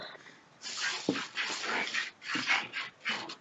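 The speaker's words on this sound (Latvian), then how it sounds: "Vēl viens suns." A dog, heard through a Skype call from a barn with cows, horses and chickens, gives a run of short yips and whimpering barks, moderately near and slightly muffled.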